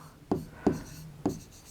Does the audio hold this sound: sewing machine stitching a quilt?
no